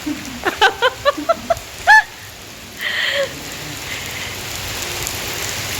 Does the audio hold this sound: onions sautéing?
no